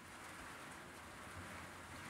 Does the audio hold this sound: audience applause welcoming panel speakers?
no